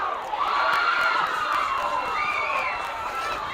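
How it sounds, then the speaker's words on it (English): Distant crowd of spectators yelling and cheering at a nearby baseball game, a steady, diffuse wash of shouting voices carrying from some distance with no clear pauses. "More screaming at the much more exciting game behind us."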